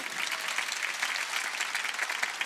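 Applause from a church congregation during a Sunday worship sermon, a continuous even patter of many hands clapping, moderately quiet and steady throughout.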